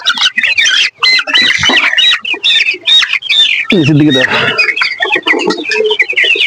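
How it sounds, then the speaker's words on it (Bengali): Colour bird chickens on a poultry farm chirp and cluck steadily while one bird is caught, with a brief scuffle partway through. People talk over the birds throughout. "আমাদের কালারবার্ড মুরগি কতটুকু ওজন গেইন করছে তো চলুন দেখি প্রথমে একটা মুরগি ধরি"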